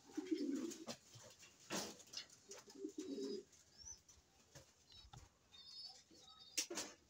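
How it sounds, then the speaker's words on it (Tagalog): Pigeons coo softly in low, rounded bursts, with faint chirps and scattered clicks in the background; no one speaks. "Ito guys, ang ating ibon."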